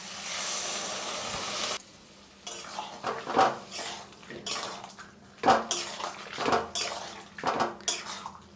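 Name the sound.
water poured into the curry pan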